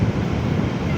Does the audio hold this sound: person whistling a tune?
no